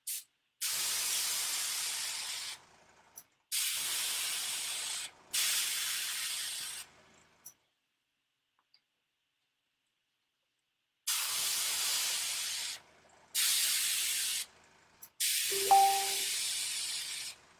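An airbrush sprays paint onto painted models in several long, steady hissing bursts of a few seconds each, separated by silent pauses, close and even in level, with no speech.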